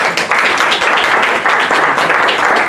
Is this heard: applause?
yes